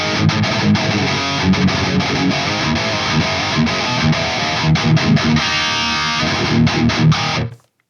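An electric guitar played through a ToneX pedal amp DI capture gives a heavily distorted, thick tone, with chugging strummed chords and riffs played continuously at high volume before cutting off abruptly at the end.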